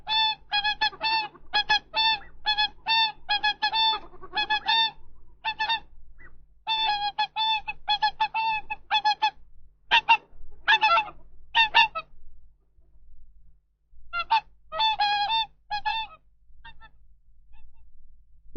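Whooper swans trumpet during courtship in loud, discordant bursts of honking calls, repeated in rapid clusters with brief pauses between, clear and close.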